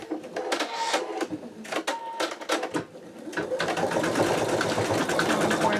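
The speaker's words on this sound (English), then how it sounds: "I'm going to let it stitch for a minute or two so you guys can see the stitching" A Sew Tech VK362MK embroidery machine stitching through fabric clamped in a 7x5 magnetic hoop, a rapid rattling needle rhythm that runs in uneven bursts with brief pauses, then settles into steady continuous stitching, close and fairly loud.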